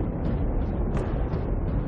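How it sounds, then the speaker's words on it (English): A volcanic eruption explosion from gas building up inside molten rock, heard as a sustained deep roaring rumble with a brief sharper burst midway, loud and broadband with no voices. "Giant explosions caused by the catastrophic buildup of gas"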